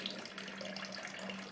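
Water pours from a milk jug into a brewing cooler during an all-grain cream ale home brew, a steady, soft splashing gush that runs the whole time with no talk.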